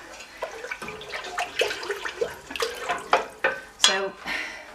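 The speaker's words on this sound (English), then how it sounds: "Now I'm going to add another 2 litres, but this time of cold water." Cold water poured in a splashing, gurgling stream into a pumpkin wine mixture, with uneven sloshes and bursts close by, no talk.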